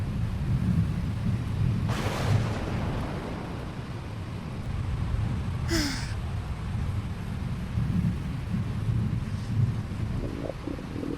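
Steady rain patters continuously over a low rumbling background, with a couple of brief sharper noises standing out; no voices.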